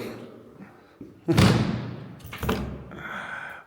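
An old elevator door in a Naples apartment building is opened, giving a sharp metallic clunk followed by a second rattling thud and a fainter scrape, close by in a quiet stairwell.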